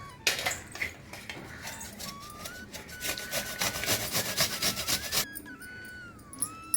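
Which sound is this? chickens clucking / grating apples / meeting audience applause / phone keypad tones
grating apples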